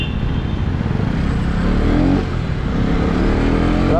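Husqvarna Vitpilen 250 motorcycle engine running while riding, a steady loud droning hum with a slight rise in pitch midway, continuous and close, with no talking.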